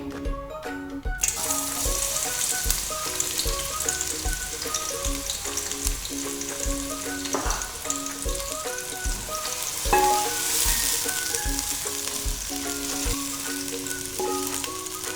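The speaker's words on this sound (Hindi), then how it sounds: "प्याज 1 प्याली, इसको हम फ्राई करते हैं।" Steady, crackling sizzle of onions frying in hot oil, close and continuous, with occasional clinks of a utensil stirring the pan.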